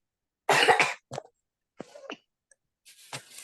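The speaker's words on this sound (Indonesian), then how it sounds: "Batuk" A person coughs close to the microphone: one strong burst followed by several shorter, lighter coughs and throat sounds spread over a few seconds, separated by silence.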